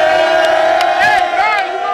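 A dense crowd roars and cheers at an all-star battle rap basketball game, a loud, steady wall of voices with whoops and shouts rising through it.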